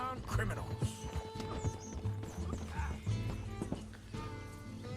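Horse hooves clip-clop in a rhythmic trot in Red Dead Redemption 2, with a horse neighing and other game sounds layered over them, close and fairly loud throughout.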